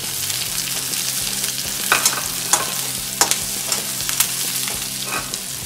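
Onion, ginger and garlic sizzle loudly in hot oil as cashews and raisins are stirred in for a restaurant-style mixed vegetable sabzi. A steady frying hiss sits under occasional scraping clinks of the spoon against the pan.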